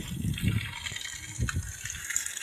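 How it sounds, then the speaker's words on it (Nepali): Water gushing from a local public tap, the outdoor supply running very cold: a steady splashing rush that rises and falls slightly in strength, fairly close and with no talking. "यो चाहिँ यहाँको स्थानीय धारा"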